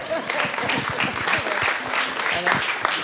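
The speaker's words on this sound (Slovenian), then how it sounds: "česti aplavz za Roberta." Audience applause at the premiere of a Slovenian film, a moderately loud patter of many hands clapping with some voices mixed in underneath.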